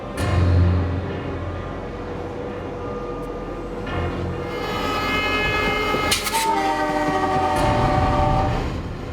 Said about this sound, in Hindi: अब ट्रेन करजत की ओर जा रही थी।